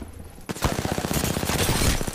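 Rapid automatic gunfire in a shooter video game, a fast string of sharp, loud, close shots that begins abruptly after a brief quiet moment and continues without pause.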